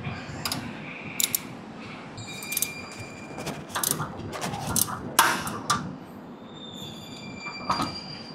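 A hand tool loosens the fuel tank bolts on a Harley-Davidson Iron 883 Sportster, giving intermittent metallic clicks and short squeaks over a low steady background hum, with no talking.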